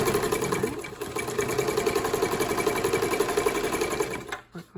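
A vintage Dressmaker S-2402 sewing machine stitches through thick fabric, a close, steady rapid mechanical chatter that runs for about four seconds before slowing and stopping.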